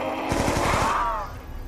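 A short, rapid burst of automatic gunfire crackles in Call of Duty's Mob of the Dead zombies mode, about half a second of quick shots over a busy game background, then fading.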